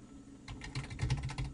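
A computer keyboard clatters with rapid keystrokes as code is typed into Microsoft Visual Basic 2010. The close, steady tapping builds after a short pause, with no talking.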